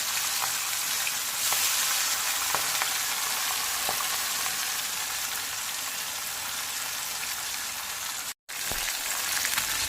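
Fish frying in coconut oil, sizzling and splattering steadily with a dense, crackling hiss and scattered pops, close and continuous, with a very brief dropout near the end.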